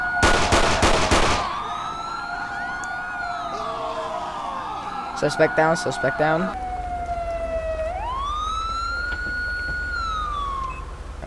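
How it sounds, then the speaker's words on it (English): A wailing police siren on a patrol car in GTA V with the LSPDFR police mod, rising and falling in long sweeps, with a burst of sharp gunshot-like cracks early on and a brief spoken line over it. "they're gonna shut up my siren."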